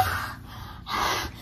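A person yawns nearby, a breathy inhale then a longer drawn-out exhale, quiet and close with no talk.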